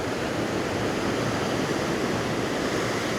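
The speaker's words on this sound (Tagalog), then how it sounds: "Wow, sobrang lakas ng alon." Strong ocean waves crash onto a beach in Boracay on a rainy day, a continuous loud roar of surf with no voices over it.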